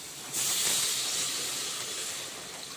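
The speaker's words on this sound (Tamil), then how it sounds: "இப்போ இதை எடுத்து இதில் அப்படியே ஊற்றிட வேண்டியதான்" A sharp, steady sizzle bursts in as onion rasam liquid is poured into a hot pan of sautéed ingredients, then hisses on continuously, slowly settling.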